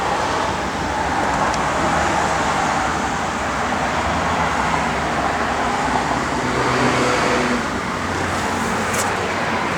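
A 1970 Dodge Charger 500 with a mild cam idles steadily, a loud, continuous low engine rumble close by with no pauses.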